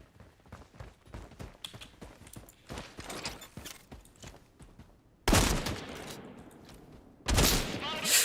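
Gunfire in the Caliber shooter game, scattered shots and rattling bursts at first, then two loud, sharp blasts close by, each followed by a ringing tail.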